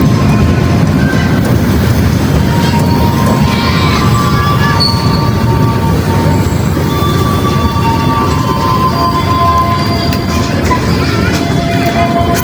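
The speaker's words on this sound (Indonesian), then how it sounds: "kereta api komuter lain Garut pada pukul 18:13 menit masuk dan berhenti di jalur 3 stasiun Padalarang" A Garut commuter line train pulls into track 3 at Padalarang station and stops, loud and close, with a heavy low rumble of wheels under shrill, sustained squealing tones from the rails.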